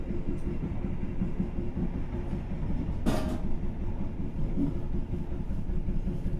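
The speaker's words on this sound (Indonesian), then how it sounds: "kereta api Argo Bromo Anggrek akan lintas langsung di stasiun Semarang Poncol" Argo Bromo Anggrek train running straight through Semarang Poncol station without stopping, giving a steady low rumble with a single sharp burst midway.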